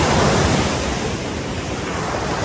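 Ocean surf washes steadily onto Sernabatim Beach in Goa, a dense, continuous roar of breaking waves with some wind buffeting the microphone, loud and close, no voices.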